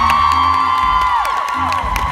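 A convention crowd at a Supernatural fan event cheers and whoops loudly for the band, a steady, dense wash of voices that holds for the whole moment.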